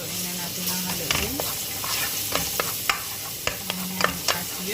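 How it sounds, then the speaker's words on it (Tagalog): Chopped garlic sizzles in hot oil for chicken biryani, a steady close frying hiss broken by sharp clicks and scrapes of a spoon stirring the pan. "Lagyan na natin ang bawang. Ayan, haluin na natin ang haluin."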